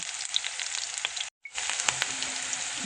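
Half-ring sliced onion fries in a preheated pan with a dense, bright sizzle, broken by a brief silent gap partway through, then resuming with a few spits and pops; nearby, no talking.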